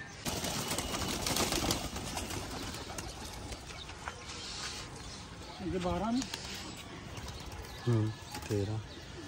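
Pigeons coo in short throaty bursts, several calls near the end, over a busy, noisy background with people talking.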